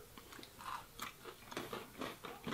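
Close, quiet crunching of a Rold Gold pretzel being bitten and chewed, a rhythmic series of crisp bites and chews repeating every few tenths of a second, with no talk.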